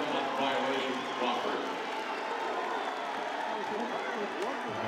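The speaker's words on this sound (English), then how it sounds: "Western fans applaud their Catamounts and what they've done defensively" Western Carolina basketball fans applaud their Catamounts at a college conference tournament game against Wofford, a steady arena roar of clapping and crowd noise with a commentator talking over it.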